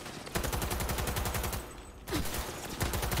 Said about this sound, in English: I'll just have to shoot blindly until I get them.